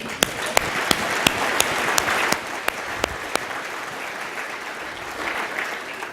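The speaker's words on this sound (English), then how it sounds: "let's give Jack a round of applause" Steady applause from an audience at an annual meeting and exhibition in San Francisco, a dense wash of clapping with a few sharp individual claps standing out, easing slightly after the first couple of seconds.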